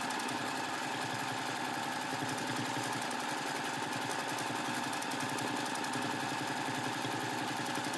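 Sewing machine running continuously at speed during free-motion quilting of a quilt block, a dense rapid mechanical whir and needle clatter, steady and close throughout.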